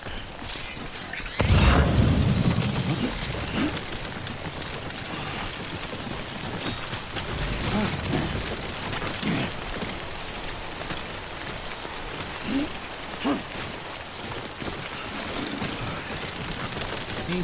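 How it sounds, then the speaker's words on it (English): Steady timefall rain pours in Death Stranding, a dense, even hiss of drops hitting the ground that begins abruptly with a brief low thump and continues unbroken, with no voices. "Don't stay out in the rain any longer than you have to."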